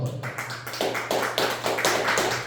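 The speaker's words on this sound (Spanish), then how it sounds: "Den un fuerte aplauso al Señor." A church congregation applauds with a rapid, even run of claps, dense and fairly close, while a steady low hum runs beneath.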